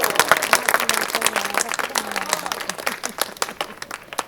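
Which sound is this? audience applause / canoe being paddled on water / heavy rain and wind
audience applause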